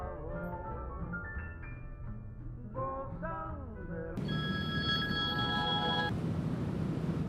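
A telephone ringback tone on an outgoing call: a steady electronic ringing that starts partway through, with music and layered tones underneath and no speech.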